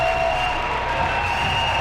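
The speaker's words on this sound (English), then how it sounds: "On their feet, applauding their young men." A hockey crowd at a high school state semifinal stands and applauds its Marquette team, a steady dense wash of clapping and cheering filling the arena.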